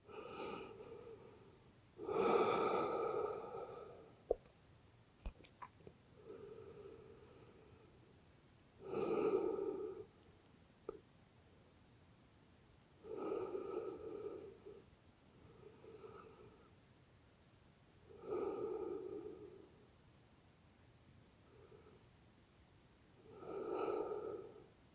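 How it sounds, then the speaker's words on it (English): Slow, steady yoga breaths, each a soft airy inhale or exhale swelling and fading, repeating about every five to seven seconds, close and alone with quiet gaps between. "Taking a few slow, steady breaths."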